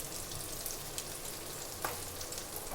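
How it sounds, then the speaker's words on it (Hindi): Arbi (taro) leaf pakoras shallow-fry in mustard oil, a dense, continuous crackling sizzle with small pops, close and fairly loud throughout. "तो ये 2 मिनट में ये सैलो फ्राई होकर हमारे ये अरबी के पत्ते बनकर तैयार हो जाएंगे।"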